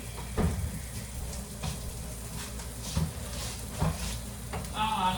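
An egg sizzles in a frying pan, a continuous crackling hiss with occasional soft stirring knocks, close and steady.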